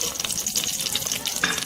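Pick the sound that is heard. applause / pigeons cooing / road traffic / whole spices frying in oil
whole spices frying in oil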